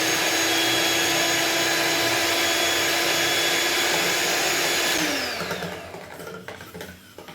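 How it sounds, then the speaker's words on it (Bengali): A kitchen blender whirs loudly at a steady pitch while lightly blending bread pudding ingredients, then the motor winds down and stops near the end, leaving a few faint clatters. "তো এটাকে আগে আমরা একটু হালকাভাবে ব্লেন্ড করে নেব"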